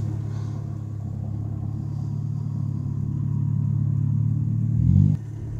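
A 1972 Ford F100 pickup with a swapped-in 302 V8 drives along, its steady low engine drone building slightly before a brief louder surge near the end, with no voices.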